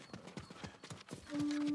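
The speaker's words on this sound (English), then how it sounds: "Horse." Horse hooves clip-clop in a quick, steady rhythm in the video game Ghost of Tsushima, fairly faint, with a sustained tone rising in the last moments.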